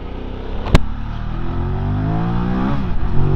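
A QJ Motor motorcycle engine revs up and pulls hard, its droning note climbing steadily in pitch, loud and close, with a brief sharp click early on.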